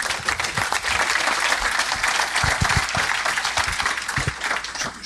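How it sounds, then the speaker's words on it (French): Dense, steady applause fills the room at an awards ceremony, loud and continuous for several seconds with many hands clapping at once and no talking over it. "Vous pouvez les applaudir, je pense."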